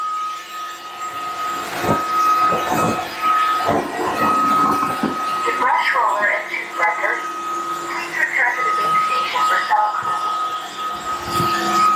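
A Dreame H15 Pro CarpetFlex wet-and-dry vacuum mop runs in turbo mode with a loud, steady motor whine and suction roar, with shifting rattles and scraping as it picks up a large mess.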